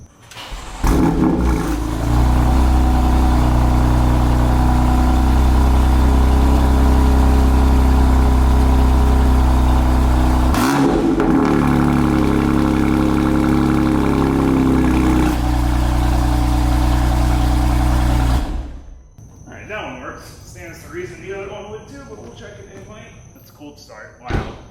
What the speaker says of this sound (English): Cold start. Wow. But you heard the valves open and close.